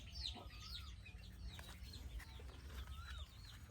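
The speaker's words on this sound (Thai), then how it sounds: "ตรงนี้จะเป็นไก่ จับคู่ครับกำลังไข่" Chickens, including pairs of laying hens, cluck softly in a coop with a corrugated metal roof on a farm near rice fields in the morning, with scattered calls over a steady low rumble of background noise.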